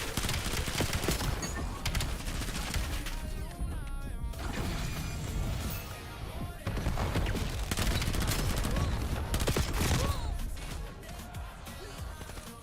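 Call of Duty gunfire crackles in dense bursts throughout, with rapid automatic volleys, sharp cracks and a short lull partway through, loud and up close in the game mix.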